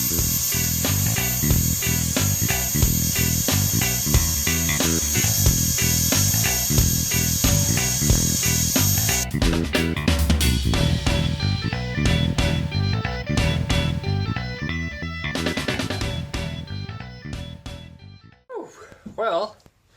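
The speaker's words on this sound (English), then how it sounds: "let's give a diamond dust burr a try and see what that does" A rotary tool with a diamond dust burr carves a replica skull, a close, steady grinding whine with a shifting tone. Background music plays through the clip and breaks into sharp, choppy bursts near the end.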